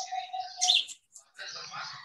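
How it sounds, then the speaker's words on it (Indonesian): Birdsong outdoors in the hills, a few short melodious chirps and tweets in separate bursts with gaps between, fairly faint. "kicauan burung yang merdu"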